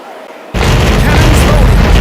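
Bow chaser cannons fire in the naval battle game Commander Conquest of the Americas, a sudden loud boom after a brief quiet that swells into a sustained roar of gunfire.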